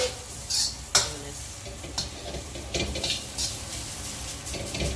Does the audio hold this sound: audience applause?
no